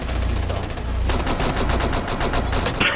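Rapid bursts of Blitz pistol gunfire in Rainbow Six Siege, loud sharp shots in a fast irregular rhythm across a multiplayer bomb match, with a deep thumping game soundtrack underneath.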